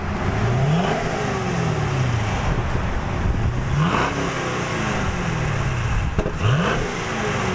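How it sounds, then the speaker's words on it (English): Supercharged 2010 Chevy Camaro SS with stock exhaust revving repeatedly, three loud rising blips over a steady idle rumble, close by with no talk. "do a sound check of before the 2010 Chevy Camaro SS, aka Bruja Roja, gets her new Flowmaster American Thunder exhaust"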